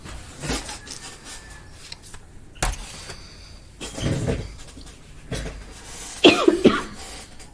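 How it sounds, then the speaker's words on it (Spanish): A teacher coughs during a literature class, several separate dry coughs and throat-clearing bursts spaced a second or two apart, close and fairly loud against a quiet room with light rustling. "Perdón, es que todavía tengo tos."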